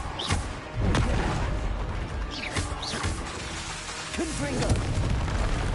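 Explosive Confringo and Incendio spell blasts in the video game Hogwarts Legacy, a series of booming bursts and crackling impacts over constant in-game noise, with a voice talking throughout.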